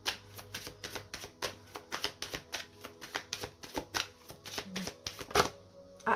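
Oracle cards being shuffled for a reading, a rapid series of crisp riffling bursts in an even rhythm, close and fairly loud, with no talk.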